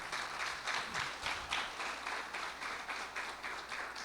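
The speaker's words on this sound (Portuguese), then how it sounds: "vamos aplaudi-lo por isso" Steady rhythmic group clapping, fairly faint and distant, as a church congregation applauds in unison during a sermon.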